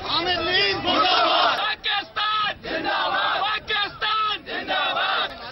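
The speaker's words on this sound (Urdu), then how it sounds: "مظاہرین نے پاک فوج کے حق میں اور حامد میر کے خلاف نعرے لگائے۔" Journalists and civil society protesters in Islamabad chant slogans in support of the Pakistan Army and against Hamid Mir, a loud crowd shouting in rhythmic unison with short pauses between repeated chants.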